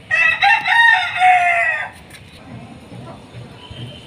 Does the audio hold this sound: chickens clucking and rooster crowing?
yes